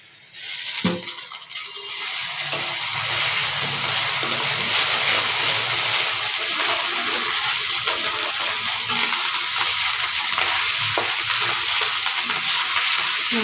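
Ginger and garlic paste frying in a pan, a steady loud sizzle holding from about two seconds on with faint stirring scrapes beneath it and no talk.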